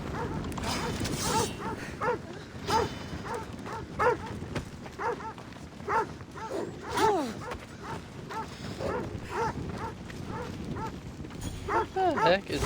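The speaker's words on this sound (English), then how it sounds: "What the heck is with this dog?" A dog in the video game Assassin's Creed Odyssey barks again and again in a steady, insistent rhythm, moderately close, over a busy background of game ambience.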